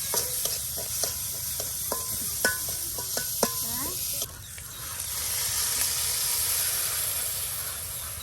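A ground onion, garlic and mustard spice paste fries in a pan over a village cooking fire, giving a steady close sizzle and hiss, with a spoon clicking and scraping as it stirs during the first half.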